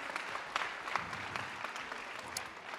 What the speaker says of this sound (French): Applaudissements pour nos pointeuses et pointeurs en race bazadaise.